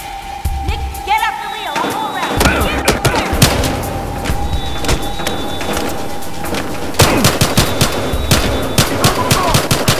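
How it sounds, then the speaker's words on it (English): Rapid automatic gunfire and scattered shots from the video game Battlefield: Hardline, with bursts running continuously and loudly throughout amid mechanical clatter, and a voice heard in the background. "Gunshots reported."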